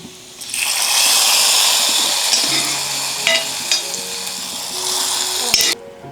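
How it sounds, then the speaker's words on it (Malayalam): A fried mustard tempering hits a salted mango curry with a loud, sustained sizzle, followed by the scrape and clink of a spoon stirring the pot up close. "കടുക് വറുത്ത് ചേർത്ത് ഇളക്കി ഇനി കറി കൊണ്ടുവയ്ക്കട്ടെ"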